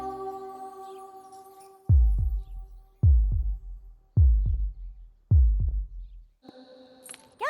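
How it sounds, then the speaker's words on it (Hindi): Heartbeat sound effect in a Hindi-dubbed South Indian action movie: four loud, deep double thumps at a steady slow rhythm over a soft background hum, with a brief tonal music sting at the end. "अगर ये तुम्हारे पास रहेगी तो मेरी धड़कन तुम्हें सुनाई देगी।"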